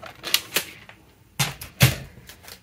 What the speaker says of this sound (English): I'm gonna take my unscored piece and I'm gonna cut it